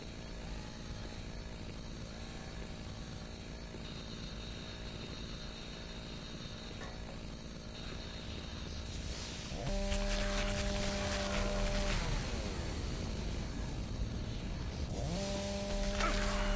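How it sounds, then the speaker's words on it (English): In Doom 3, a chainsaw idles with a low rattling drone, then roars louder as it revs and cuts, its pitch jumping and wavering in two bursts over a dim background hum. "I can run straight forward and chainsaw it."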